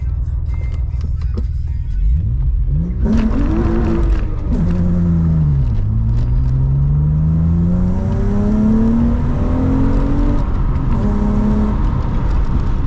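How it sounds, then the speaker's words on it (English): A six-speed manual car idles, then launches hard off a dumped clutch, the engine revving up through a long climbing pull with a dip and rise, loud and close, tire noise mixed in. "right when I did that, it literally was just burning the tires straight up"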